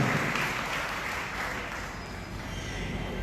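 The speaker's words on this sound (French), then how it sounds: "un gros applaudissement pour présence de Dieu dans la vie de Frère" A congregation at a Sunday worship service breaks into a short burst of sustained, fairly loud applause filling the church hall.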